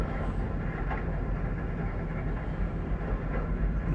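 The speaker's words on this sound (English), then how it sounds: "several cars slipped off the tracks and dragged along the ground" Derailed train cars drag along the ground after slipping off the tracks, making a steady, heavy rumble with low grinding. The noise is continuous and fairly distant, with no talking.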